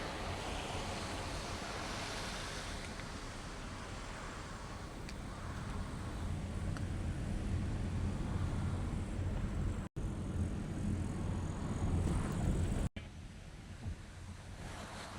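A clear creek flows in a steady, broad rush, a continuous wash of water noise that swells slightly partway through and carries on without a break, fairly close and alone.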